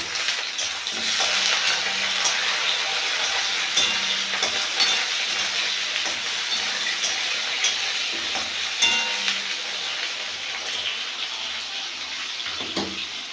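Hilsa fish heads fry in oil with onion in a pan, giving a continuous close sizzle with occasional stirring knocks and scrapes and no talk.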